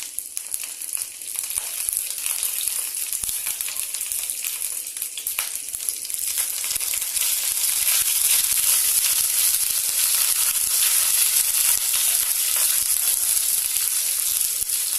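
Green chilies sizzle and crackle steadily in hot oil while frying for a Bengali-style rohu fish curry (ruhi macher jhol), a dense, continuous bright hiss that holds close and loud throughout, with no voices.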